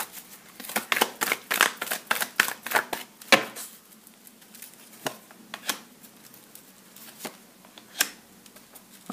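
A deck of cards shuffled and dealt out onto a table, close-up crisp snaps and riffling taps that come in a quick flurry, then thin into sparse single slaps as cards are laid down, with no talking.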